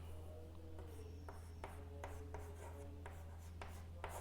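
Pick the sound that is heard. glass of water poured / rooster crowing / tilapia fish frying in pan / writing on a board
writing on a board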